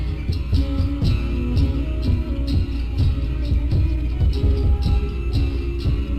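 A puzzle music track plays steadily with a rhythmic pulsing beat, repeated percussive hits and sustained tonal layers.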